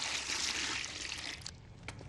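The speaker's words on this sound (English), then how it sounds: "Fill a bucket with water." Water rushing into a bucket, a loud hissing fill that cuts off sharply after about a second and a half, followed by a few faint drips and knocks.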